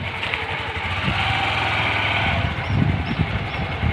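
A motorcycle idles nearby as it is parked near a village fair, giving a steady, close engine rumble with a slight surge toward the end and no speech.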